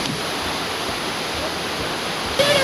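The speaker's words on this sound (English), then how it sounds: "And now the water is just pounding." Steady, dense rush of a waterfall pounding continuously at Lindeman Pass in the Blue Mountains, Australia, loud and close, with a faint whistle-like tone near the end.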